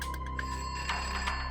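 A telephone at the Borivali police station rings with a steady electronic trill. It is close and continuous over a low background hum, with no voices.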